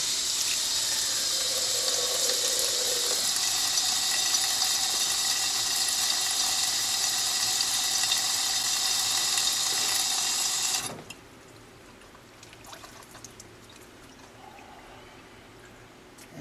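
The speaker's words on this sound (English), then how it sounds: "we'll rinse it just a couple more seconds here" Running water from a tap splashes steadily over a hydro-dipped piece being rinsed, a loud continuous hiss that cuts off suddenly partway through, leaving quiet room sound.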